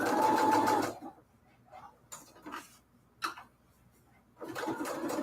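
A sewing machine fitted with a walking foot runs in quick, steady mechanical chatter, stops while a person speaks softly, then starts up again near the end.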